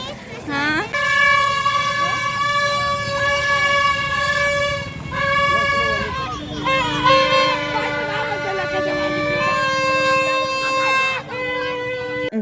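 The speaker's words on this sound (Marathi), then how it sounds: "गावाकडची जत्रा आणि हा भोपू हॉर्न" Bhopu horn blaring at a village fair in Khandesh, a loud, close tonal blast held for several seconds, then repeated in a long wavering honk over the crowd, with voices talking in the background.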